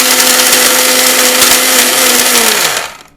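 Miyako heavy duty 2200 watt blender running at a loud, steady high-speed whine, then spinning down and stopping near the end; no one speaks.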